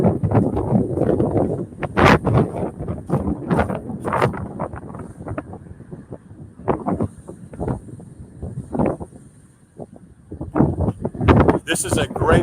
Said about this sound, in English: This is real rogue live streaming, so I know it's windy